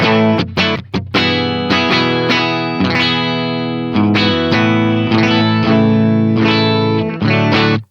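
An electric guitar rings through a clean Boss GX-10 amp model, chasing a mid-1980s sound, with strummed and arpeggiated chords sustaining with a shimmering, effects-laden tone, loud and alone.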